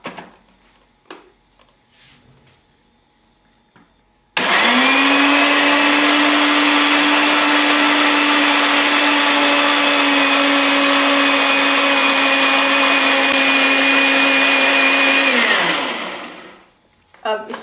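A mixer grinder blends mango, banana, celery and milk, starting abruptly with a loud steady whirring drone that holds for about eleven seconds, then winds down and stops, with brief kitchen noises before and after.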